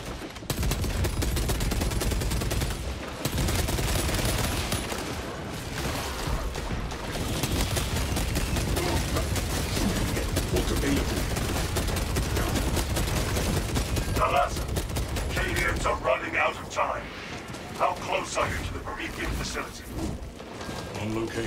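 Sustained gunfire rattles almost nonstop during a boss fight in Space Marine 2, loud rapid bursts layered with booms and mechanical clatter, while players talk over the shooting.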